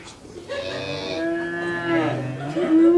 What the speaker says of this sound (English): Cows.